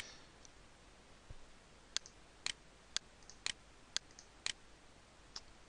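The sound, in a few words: computer mouse clicking in map editor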